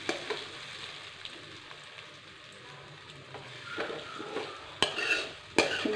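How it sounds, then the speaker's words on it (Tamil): Raw plantain pieces frying in a pan with fennel seeds over low heat, stirred and turned with a utensil: a steady soft sizzle under scraping stirs, with a couple of sharper clinks near the end and no talking. "இந்த வாழைக்காயெல்லாம் இதில் கொட்டிடுவோம். சிம்மில் வச்சு அதை பரட்டி பரட்டி விட்டுருவோம்."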